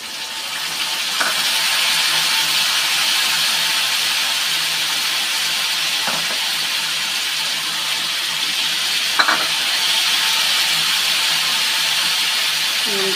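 Spice paste of cumin, ginger, green chilli, onion, garlic and turmeric fries loudly with potatoes in a pan, a constant close sizzle and hiss broken by a few sharp scraping stirs.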